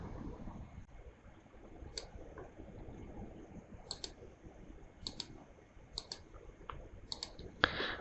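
Mouse clicks in Excel, a sparse run of sharp, quiet clicks spaced irregularly over a steady low background hiss, with a slightly louder click near the end.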